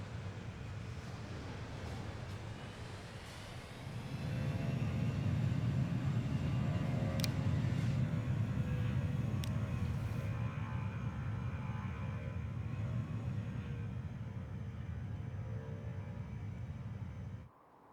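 An airplane in Transport Fever 2 aborts its landing and goes around the runway, a steady broad engine roar that swells after a few seconds and holds at a constant level throughout.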